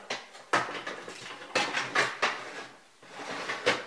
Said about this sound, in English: Place the rack back inside